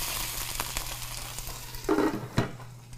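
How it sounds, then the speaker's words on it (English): Sliced onion fries in a heated wok, a steady close sizzle with light scraping stirs and a couple of clinks against the pan, without talk. "we're going to add our onion into the wok, and we're going to let that cook a little bit"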